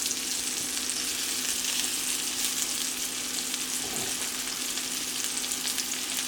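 Asparagus cooks in a pan on the stovetop with a constant soft sizzle of frying, close and even, with a faint stir partway through. No talking.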